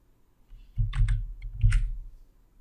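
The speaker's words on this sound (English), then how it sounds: "Then I type in sum." Typing on a computer keyboard while entering a SUM formula in Excel: two quick bursts of close, crisp key clicks separated by a short pause, heard alone without talk.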